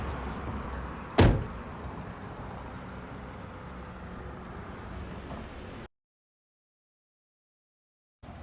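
A car door thuds shut once, sharp and close, as the driver steps out on a sloped driving-test course, set against a steady low engine idle and road hiss that cuts off abruptly.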